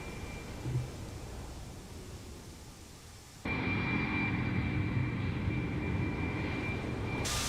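In a flight simulator, the engines of an Airbus A340-600 roar as a steady, dense, broadband rumble during the climb after takeoff, stepping up abruptly to a louder, fuller level partway through, with no talk.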